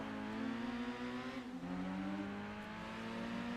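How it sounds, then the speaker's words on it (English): A race car engine in the Gran Turismo 2 video game, revving steadily with a smooth droning tone that dips briefly and climbs again, faint and continuous with no talking. "Listen to this engine for a second, will you? This sounds so much like a Need for Speed engine."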